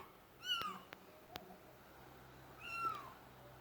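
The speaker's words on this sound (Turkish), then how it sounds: "Anneleri camdan çağırıyor ama yanlış yere çıktı." A small kitten gives two thin, high meows about two seconds apart as it calls for its mother, faint and fairly close, with a couple of soft clicks between them and no talking.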